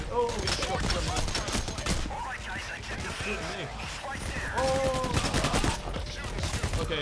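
Dense bursts of rapid gunfire in the heist shooter Payday: The Heist, loud and continuous, with players talking excitedly over the shooting.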